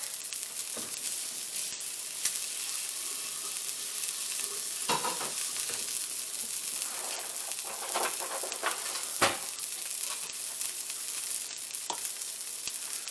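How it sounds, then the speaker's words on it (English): Steak frying in a pan on high heat, a steady bright sizzle throughout with occasional louder pops and crackles, close and continuous with no talk. "you have your steak in the pan now"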